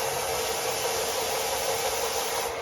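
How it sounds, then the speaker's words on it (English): A steady, loud broadband hiss of power sanding on exhaust parts for a Chevrolet El Camino, constant and unbroken throughout, with a faint engine-like rumble beneath. "That's just my brother working on sanding parts of the exhaust out there."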